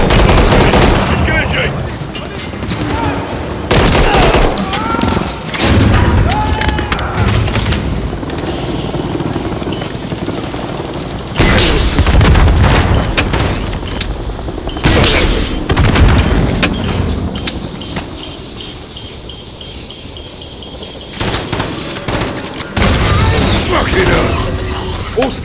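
Helicopter rotor drone mixed with bursts of automatic gunfire and booms in a Call of Duty Modern Warfare III battle, loud and continuous throughout, with voices shouting over the shooting.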